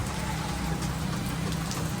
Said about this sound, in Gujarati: વરસાદ આજે કલાકે ને કલાકે વરસાદ આવ્યો છે.